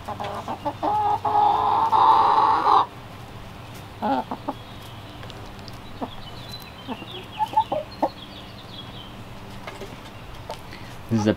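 Chickens clucking and murmuring as they eat black soldier fly larvae, with a loud burst of rooster-like calling early on, then softer scattered clucks and short calls over low background noise.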